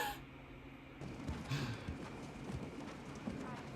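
Horse hooves clip-clop steadily in a scene from the TV series Young Royals, moderately close, under a steady background wash and faint voices.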